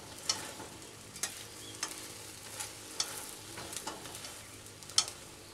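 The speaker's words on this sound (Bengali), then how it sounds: "এইভাবে ফোল্ড করে আমি এবার একটু ভেজে নেব" A folded egg omelette fries quietly in a pan with a faint steady sizzle, broken by a few light ticks and clicks from the utensil. It is close but soft, and no one speaks.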